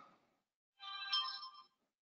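A phone rings with a short, bright electronic ringtone burst, clear and fairly close, after a faint brief trace of sound and before silence.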